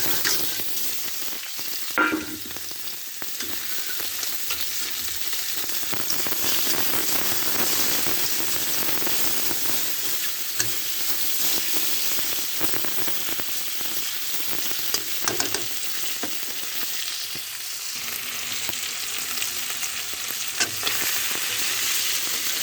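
Payra fish fries in oil in a wok with a steady, close sizzle, broken now and then by stirring scrapes and small pops.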